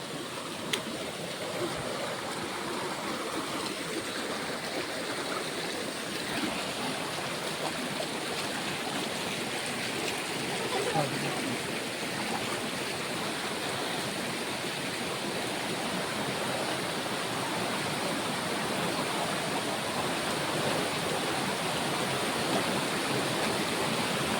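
Water rushes steadily in a continuous broadband hiss, like a flowing stream nearby, with no voices and little change throughout.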